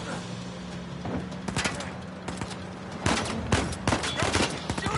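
Gunfire in the video game Uncharted 4: A Thief's End, rapid bursts of shots and sharp cracks in quick succession, growing denser toward the end over a steady low background hum.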